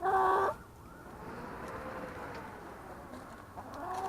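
Hefty chickens in a backyard coop, one giving a loud, close squawking cluck at the start, then soft, quieter clucking and shuffling that picks up again at the end.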